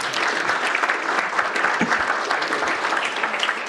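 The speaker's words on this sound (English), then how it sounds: "Get a round of applause for him." A conference crowd in a hotel ballroom gives a sustained round of applause for former Chief Dennis Meaches of Long Plain First Nation, with dense, even clapping throughout.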